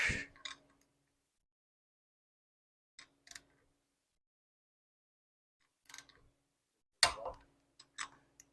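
A torque wrench clicks on bolts being tightened to about 45 foot-pounds on a Pontiac 400 V8 engine, arriving as sharp, isolated ratcheting bursts separated by silent pauses.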